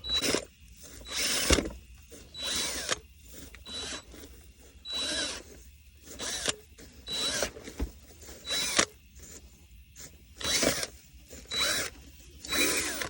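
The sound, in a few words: power drill with auger bit breaking soil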